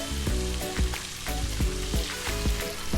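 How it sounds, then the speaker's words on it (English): Butter sizzles and fries in a hot pan, a loud close crackling hiss with repeated clinks and scrapes of stirring. "So we got a nice hot pan, some butter. Get that going."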